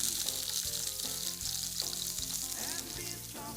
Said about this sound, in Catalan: agafem l'oli d'oliva, un bon raig a la cassola i pimentó cap a dintre